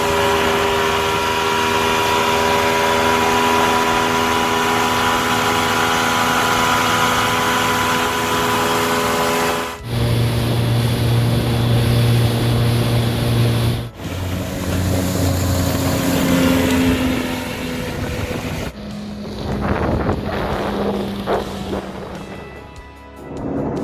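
A Suzuki DF115BTL four-stroke outboard motor drives a boat at just over 4,000 rpm, a loud, steady engine drone with water rush that shifts in pitch a few times as the throttle changes, with no talk over it.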